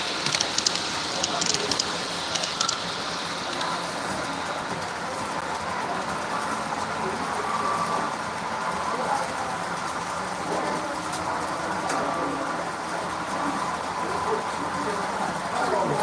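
Model CSX locomotive rolling along a fair's model railroad layout, a steady rumble with faint rail clicking beneath a noisy crowd hum, alongside a brief burst of high hiss near the start.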